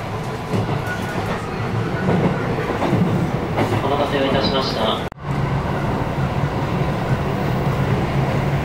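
Train rolling on rails in Japan, a steady rumbling ride with clickety-clack from the wheels and a sudden brief dropout midway, while people talk over it.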